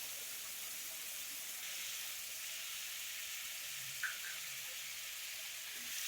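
Potatoes coated in a ground paste of coriander, cumin, chili, turmeric and ginger sizzling and hissing steadily in a hot pan, a soft clink of stirring partway through, no voices.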